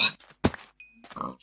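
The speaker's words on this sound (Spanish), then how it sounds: "Ay, ay, cerdos. Cerdos." Pigs in Minecraft give short, close grunts in quick separate bursts, alongside a brief game chime.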